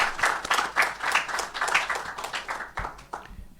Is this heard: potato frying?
no